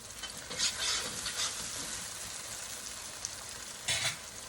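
Onions sizzle quietly in a pan while being stirred for fried rice, a soft continuous frying hiss broken by a few brief louder scraping bursts.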